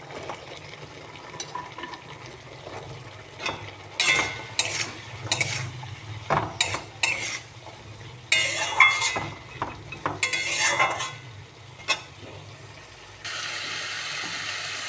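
Moringa drumsticks are stirred and fried with spices in a pan. A spoon scrapes and clatters in irregular bursts over a low, continuous sizzle, close up and with no voices.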